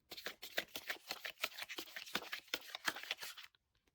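A deck of tarot cards is riffled and shuffled by hand in quick, crisp repeated flutters for about three and a half seconds, close and alone, then stops abruptly.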